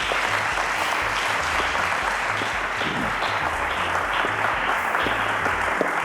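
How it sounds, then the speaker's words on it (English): Studio audience applauds a contestant on a televised school quiz show, a dense steady wash of clapping that holds evenly for the whole stretch, with a low rhythmic musical bed pulsing underneath. "A round of applause to Blessing, guys."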